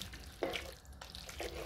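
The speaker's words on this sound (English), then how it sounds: "I'm just going to add about 300 ml of water" About 300 ml of water is poured into a cooking pot of chicken gizzard stew with potatoes, giving soft splashing bursts over a faint background sizzle, quiet and brief.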